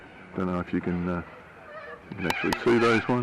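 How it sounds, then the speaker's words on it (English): Ducks honk and quack in short, repeated bursts along the Murray River at Quicks Beach, fairly close, while someone talks over and between the calls. "You can hear the birds in the background here"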